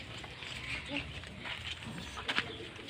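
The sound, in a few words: racing pigeon Terminator cooing after returning home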